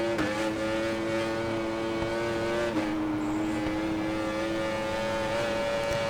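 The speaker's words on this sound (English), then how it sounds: "That bike sounds nice." A racing motorcycle engine in the Ride 4 video game holds a steady high whine under hard throttle, with one brief dip as it shifts gear before settling into the same sustained tone.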